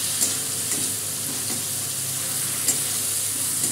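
Potato sticks cut like fries sizzle steadily in a hot pan, with a few soft scrapes of stirring over a constant, close frying hiss.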